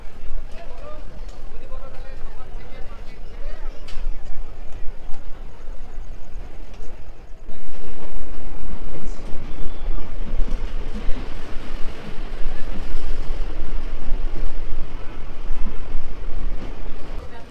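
The Haldibari–Kolkata Intercity Express rolls through Dum Dum Junction, a loud continuous rushing rumble with wind buffeting and rattling that jumps louder partway through. A voice talks over it at first.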